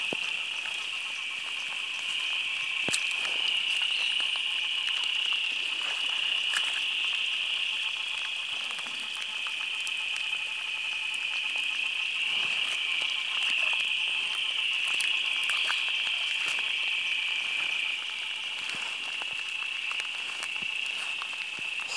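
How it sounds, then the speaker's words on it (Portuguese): Rain falls steadily at a reservoir in the Piauí backcountry while a dense, high-pitched chorus of frogs trills continuously throughout, with scattered drips and patters. "som da chuva, som do sapo cantando alegre com a chuva."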